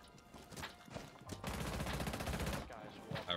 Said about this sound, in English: Just so satisfying getting a sniper rifle kill.